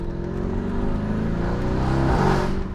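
A Lamborghini Urus Mansory Venatus engine revs up briefly, a deep, loud, close growl rising in pitch with rich harmonic roar, no voices over it.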